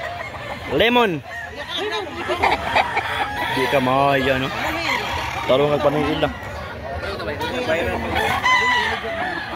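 A long-tailed gamefowl rooster crows repeatedly and clucks close up, with several loud crows spread through the span while someone talks over them.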